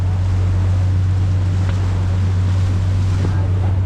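Heavy rumbling wind and water noise on the open Pacific Ocean, a steady low engine drone beneath the roar of big waves buffeting a boat.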